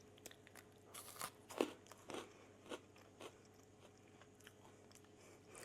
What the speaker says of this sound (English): we have our sweet potato fries, which are light and airy and snappable